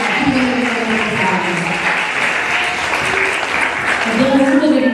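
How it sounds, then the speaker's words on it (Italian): Applause for children in a town council chamber at a sports and integration award ceremony, a steady dense clapping that fills the room throughout, with voices mixed underneath. "Quindi un applauso a voi e a tutti i"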